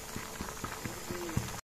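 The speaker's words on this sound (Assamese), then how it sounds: "এতিয়া মই 10 মিনিট সময় উতলিবলৈ দিম" Fish curry with cauliflower and potato boiling in a pot, giving a close, steady bubbling with soft rhythmic pops and one louder burst near the end, with no voices.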